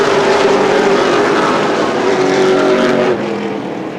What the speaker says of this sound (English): G-starter Brian Duncan with a green flag in hand, and we are racing